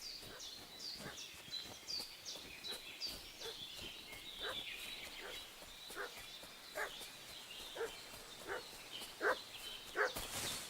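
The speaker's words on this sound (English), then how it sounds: "What's that dog making such a fuss about?" A dog fusses with repeated short barks, moderately close, in the medieval video game Kingdom Come Deliverance 2, over a busy background of ambient game sounds and birdlike chatter.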